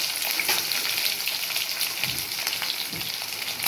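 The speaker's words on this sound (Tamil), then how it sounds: "கடுகு பொரியுது. இப்போ பூண்டு போட்டுக்கலாம்." Mustard seeds spluttering in hot oil as garlic goes into the pan for a garlic curry, a steady close crackling sizzle with sharp pops scattered throughout, no voices.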